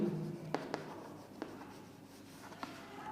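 Pen strokes writing out a maths answer on paper, a few short scratchy marks spaced irregularly, close and quiet over a faint background hiss.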